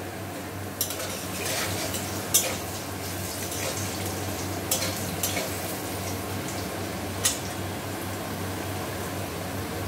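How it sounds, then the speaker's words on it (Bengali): Potatoes fry in oil with a pinch of salt while being stirred, a steady low sizzle running throughout with occasional sharp scrapes and clinks of the spatula against the pan. "আলু ভাজার মধ্যে দিয়ে দিলাম সামান্য নুন"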